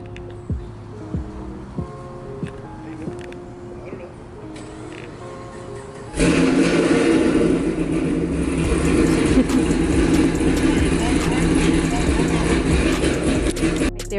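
A C6 Corvette with an LS3 and BTR Stage 4 cam starts quietly with its lumpy idle, then revs hard into a loud, sustained, raspy roar with crackling pops, close by.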